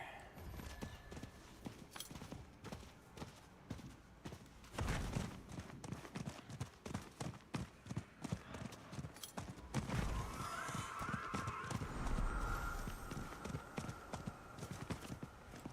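Horse hooves gallop in a fast, steady clip-clop through Diablo IV, loud and continuous over a busy game soundscape, with a brief whinny-like flourish partway through.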